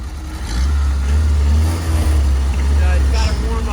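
A heavy old engine in a Ford prototype WWII jeep, a British Ford engine, idles and revs nearby while cold, a deep rumbling motor that swells and settles unevenly.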